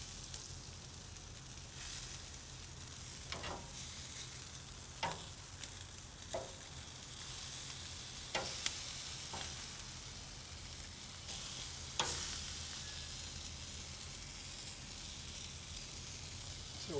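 Chipotle-marinated pork charring on a grill, a steady close sizzle with occasional sharp pops and crackles, no voices.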